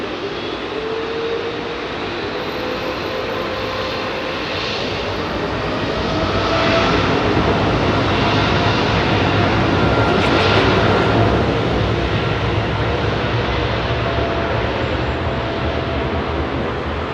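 Jet engines of a Delta Air Lines Boeing 777 at foggy Heathrow spool up to a steady, broadband roar that swells louder midway and holds, with no talk over it.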